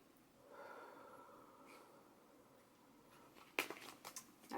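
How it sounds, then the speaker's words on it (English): A pet dog snorts indoors, with a few short, sharp nasal bursts in quick succession that stand out against a faint, quiet background. "That's my dog, Stella."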